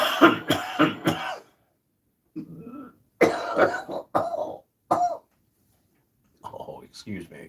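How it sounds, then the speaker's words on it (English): Several sharp coughs burst out in quick succession near the microphone during a live miniature-painting stream, followed by spaced throat-clearing and more coughs separated by silent gaps. "Forgive the coughing."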